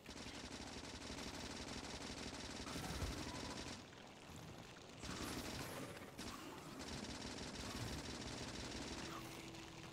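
Sustained automatic gunfire from turrets and guns shooting at biters in Factorio, a dense continuous rattle that drops off briefly and resumes, loud and close with no talking.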